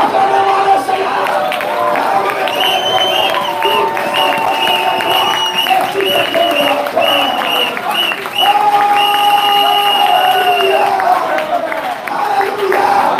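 A church congregation at a gospel tabernacle in Dakar cheers and acclaims the Lord: steady, loud crowd noise of clapping and shouting voices throughout, with a voice calling out above the crowd.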